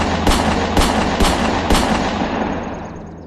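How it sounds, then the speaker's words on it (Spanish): A gunshot sound effect: four sharp, loud reports at roughly even intervals, each with a reverberant tail that blurs into the next, then a fading echo. "6 disparos en seco."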